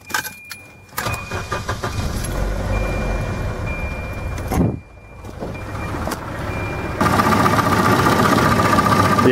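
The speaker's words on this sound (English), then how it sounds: "let's start it up right now and see how it reacts" An M46 turbo wagon after an oil change cranks, catches and settles into a rough idle close by, with a warning chime and some jangling before the engine note steadies and grows louder.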